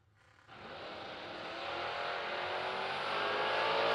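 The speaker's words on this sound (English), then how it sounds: "We'll be taking on Mr. Blake Webb in the 3rd Gen Camaro" A 3rd Gen Camaro launches at a drag strip, its engine jumping from idle to a loud, sustained roar that builds steadily as the car accelerates down the track.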